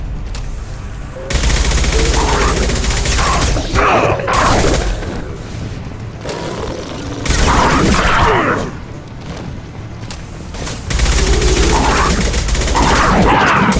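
A high impact shot fired in the Mass Effect 2 Grunt and Mordin loyalty mission, three loud booming blasts with rolling rumble, separated by quieter stretches of combat ambience and faint voices.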